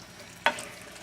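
Sauteed green beans and mushrooms in a pan give a single short, close sizzling hiss as they are tossed and land, over a low background hum.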